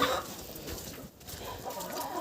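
A turkey and farmyard hens squabble in a poultry yard, a continuous close jumble of clucks and squawks with no talk.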